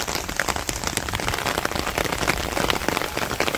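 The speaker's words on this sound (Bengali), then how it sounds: "বৃষ্টিও হালকা" Light rain falling steadily over a village in Bangladesh, a dense patter of drops on nearby surfaces with no voices.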